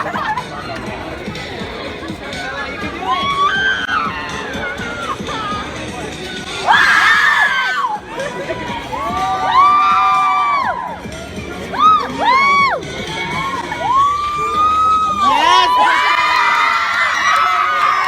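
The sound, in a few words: crowd cheering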